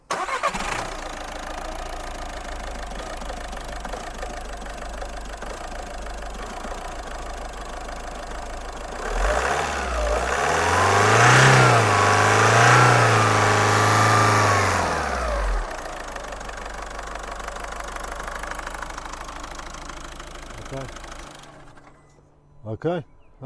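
A diesel car engine with a newly fitted fuel injector cranks, catches and settles into a steady idle, the cranking and startup surge loud and close before the even idle runs on until near the end.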